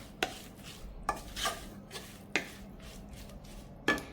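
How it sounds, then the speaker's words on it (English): Churumuri snack being mixed with tomato in a bowl: a few sharp clinks and scrapes of a utensil against the bowl at irregular intervals, close and fairly quiet, with no talking. "Okay, just mix it."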